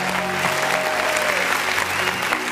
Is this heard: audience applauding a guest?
yes